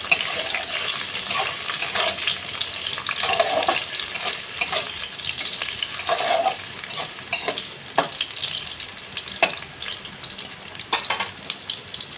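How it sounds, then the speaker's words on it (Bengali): Steamed potato frying in a pan with oil, giving a loud continuous sizzle with repeated sharp scraping and stirring clicks from a spatula, close up and with no talking. "ভাপিয়ে নিয়েছি এই আলুটাকে একটু ভেজে নেব"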